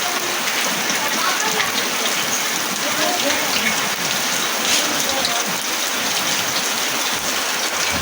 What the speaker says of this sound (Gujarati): વરસાદે છે પવને છે આંધું છે વરસાદ છે બહુ પવને છે